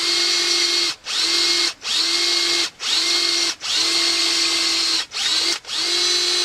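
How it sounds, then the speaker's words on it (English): A power drill whines steadily in repeated bursts, drilling out a spent W209 primer, stopping briefly between runs about seven times, loud and close with no talking. "I just drilled out a straight hole in it"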